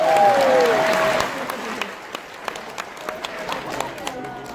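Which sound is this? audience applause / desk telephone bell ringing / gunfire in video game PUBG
audience applause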